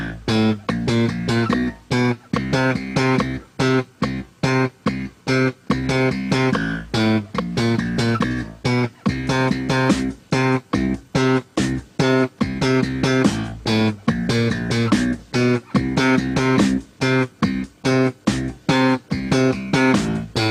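Slap bass example mixing long and short tones with right-hand rhythmic motion, dense percussive plucks and pops played continuously and loud throughout.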